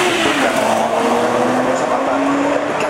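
An over-2-litre class race car on the 2019 St-Ursanne–Les Rangiers hill climb roars past close and loud, its engine note climbing steadily in pitch through the whole stretch.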